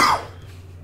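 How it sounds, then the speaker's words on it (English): A single short cough from a person on a podcast, close and sharp, then quickly fading into quiet room tone. "cough, cough"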